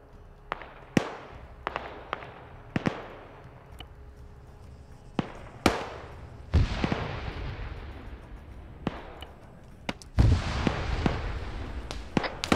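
Gunfire in a military video game: scattered sharp shots and bursts ring out at uneven intervals, some near and loud, others distant, with a few heavier booming blasts over a low rumbling background.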